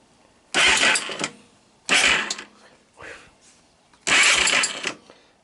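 Electric starter on a Honda ATV cranking in three short, loud bursts close by, separated by brief pauses.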